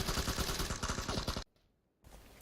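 Automatic fire from a 5.56 rifle in the PUBG video game, a rapid loud burst of evenly spaced shots lasting over a second, then a brief silence before a faint final sound.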